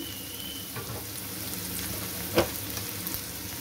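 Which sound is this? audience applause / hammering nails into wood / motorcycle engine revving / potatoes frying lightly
potatoes frying lightly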